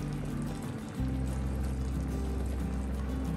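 Milk poured into a pot of chicken malai tikka biryani, a steady liquid stream flowing continuously close up and fairly quiet, with no talk.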